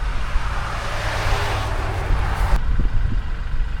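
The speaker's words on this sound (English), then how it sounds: "So maybe getting a little bit of road noise here and a little bit of wind noise" Steady broadband road rumble and gusting wind buffet a microphone outdoors while brush and limbs are being cleared; the noise stays constant and fairly loud with no voices.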